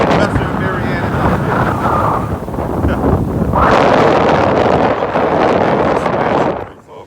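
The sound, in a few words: wind at Pompano Beach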